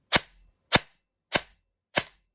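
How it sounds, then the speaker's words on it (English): An airsoft AEG M4 fires four single shots on semi, each a sharp, close snap as the piston strikes the front, spaced at an even rhythm with silence between them. "you can hear the sound of the piston hitting the front, right?"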